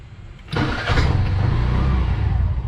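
A tuk tuk in Sri Lanka has its engine cranked with a little throttle. After a quiet start it catches with a sudden burst and settles into a loud, close, steady putter with no talking.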